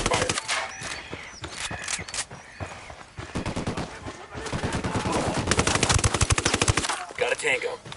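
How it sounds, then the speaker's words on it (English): Rapid bursts of automatic gunfire crackle through a Ghost Recon Wildlands firefight, loud and close, with dense volleys of shots that intensify toward the end. "I'm opening fire."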